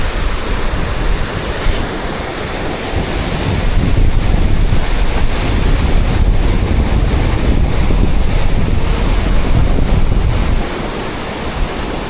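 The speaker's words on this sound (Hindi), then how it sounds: "ये ग्लेशियर लेक है माशाल्लाह पानी की आप रफ्तार चेक करें।" Water rushes out of a glacial lake spillway near the mountain village of Darkut, Pakistan, as a loud, steady roar with heavy wind buffeting on the microphone, swelling midway, with no voices.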